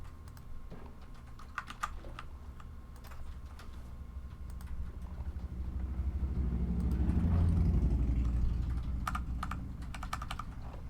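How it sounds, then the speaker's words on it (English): Loud mechanical keyboard clacking with rapid bursts of shortcut keystrokes, clustered taps recurring through the stretch over a low rumbling background hum while a Planet Zoo game is played. "the sound of me loudly using keyboard shortcuts"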